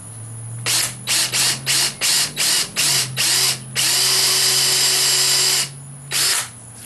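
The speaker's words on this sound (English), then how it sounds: "I got me a little Forstner bit, and it's about the same diameter as this needle pin here, so I'm just going to do it." A drill with a small Forstner bit bores into black walnut in several quick whirring bursts, then one longer sustained run and a final short burst, loud and close with no voices.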